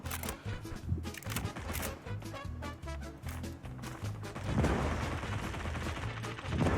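Bursts of gunfire from a shooter video game ring out in quick repeated volleys, fairly loud and close, layered over a rumbling game soundscape that swells louder in the final seconds.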